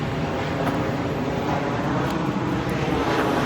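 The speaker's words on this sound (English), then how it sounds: "Obviously, you have airplane traffic being this close to LaGuardia." Airplane passing over a quiet neighborhood near LaGuardia airport, a steady broad engine roar that stays loud and even throughout.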